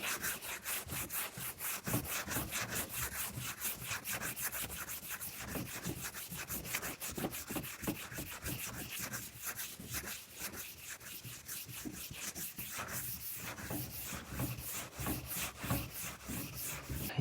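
Sandpaper rubs rapidly back and forth over 2K urethane primer coated with a black guide coat, a continuous, fairly quiet scratchy rasp with quick regular strokes and no talking.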